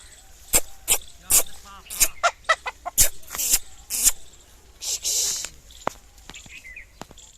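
A white rooster and a black hen forage in grass, giving a series of sharp, close clucks and short calls in irregular bursts, with faint rustling between them.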